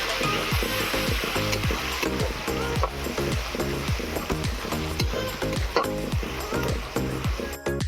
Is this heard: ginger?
yes